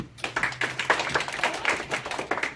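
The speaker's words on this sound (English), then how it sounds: "Round of applause." Students in a classroom give a brief round of applause, a fast cluster of close hand claps that tails off after a couple of seconds.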